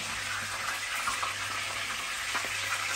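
Onion fries in a pan, a soft, steady hiss of sizzling oil with faint bubbling and occasional light stirring, close by and continuous with no talk.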